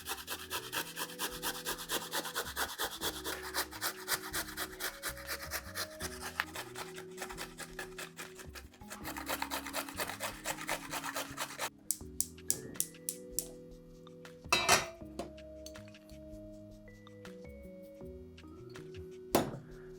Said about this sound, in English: and just grate your 2 beetroots